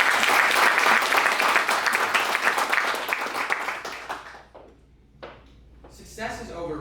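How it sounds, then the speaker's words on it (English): Audience applause for a student speaker at a TED-style talk, thick clapping that thins out and fades, followed by a few scattered claps and a voice starting to speak. "So let's give him a round of applause."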